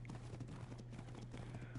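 Hooves of a unicorn, a horned horse, clip-clopping in the video game Ark Ragnarok, a quick steady trot of soft hoofbeats, faint against a constant low hum.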